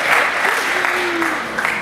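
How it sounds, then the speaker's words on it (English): Audience at an LSE talk applauding, a dense, steady wash of clapping from a sizable crowd, close and loud throughout. "Please clap for her."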